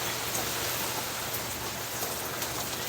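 Steady, dense rain with wind, a constant hiss of falling water filling the background without a break.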